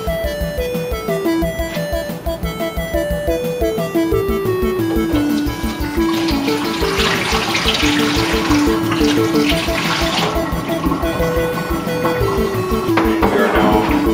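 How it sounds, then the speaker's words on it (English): Waste water from a reverse osmosis system draining into a bucket, a steady close splashing flow with bubbling and a rising filling tone that continues throughout. "We are now draining out into the bucket, so we're just going to let this continue to flow"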